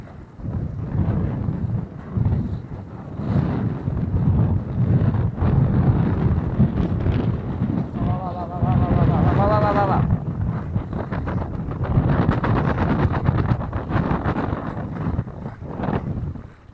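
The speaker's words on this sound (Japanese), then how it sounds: "本気でシャレにならないぐらい強い風が吹いて、操船できなくなってしまって" Strong gusting wind buffets a fishing boat on the Ichifusa Dam reservoir, a loud continuous roar of wind noise with choppy water sounds throughout, fairly steady and close.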